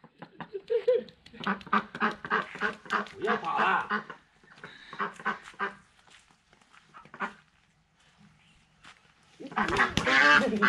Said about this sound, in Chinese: 那鸭子比较大哦